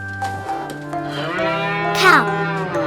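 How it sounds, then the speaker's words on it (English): A cow moos over a droning tonal background, a long, loud call that rises and bends near its end, with no voices over it. "Cow,"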